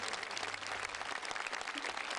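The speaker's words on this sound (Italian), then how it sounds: "L'applauso, l'applauso per te." A festival crowd applauds a guest, steady, fairly faint clapping from many hands throughout.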